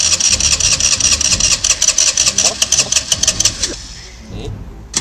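An engine cranks in a quick, loud run of regular pulses for several seconds and then stops into quiet, with a muffled voice briefly mixed in near the start.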